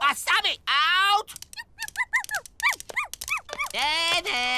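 Cartoon dogs in the animated series Robotboy whimper and whine, giving a series of high, bending yelps and longer pleading whines close up and fairly loud.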